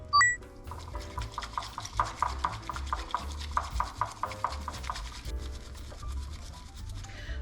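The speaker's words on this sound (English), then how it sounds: "Now I'm gonna whisk it in an M or W pattern." Rapid, rhythmic scraping of a bamboo whisk frothing matcha in a bowl, brisk back-and-forth strokes at a quiet, close level, with a faint chime near the start.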